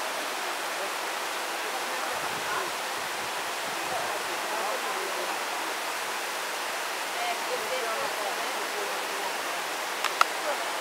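Rushing water from a waterfall and stream in the Serra da Canastra hills, a steady broadband roar close by that stays constant throughout, with a brief faint click near the end.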